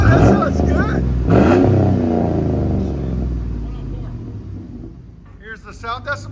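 A car exhaust fitted with a prototype muffler rumbles and revs loudly near the microphone, the roar easing and settling toward a lower idle, while people talk excitedly over it.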